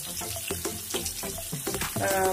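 Potato pieces frying in a pan, a steady close sizzle broken by a quick series of soft scraping and clattering stirs, rising slightly louder near the end.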